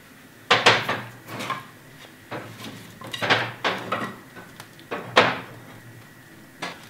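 Pine wood being loaded into a wood cook stove, with a series of sharp wooden knocks and clunks as pieces are dropped and pushed in, spaced irregularly over a quiet background.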